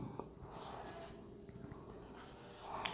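Writing on a board during a maths lesson on sets makes a steady, close scratching and rubbing texture that runs continuously for about three seconds, with no talk.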